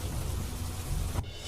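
Heavy downpour on the Vadodara Expressway, a dense steady roar of rain with low rumbling thunder underneath, continuous and loud before cutting abruptly to a thinner hiss near the end.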